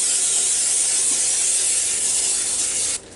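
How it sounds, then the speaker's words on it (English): Cooking spray hisses steadily onto the rack of a Ninja XL Pro cooker, one continuous close, loud burst lasting about three seconds before cutting off abruptly, with no talking. "I want to spray my rack real good"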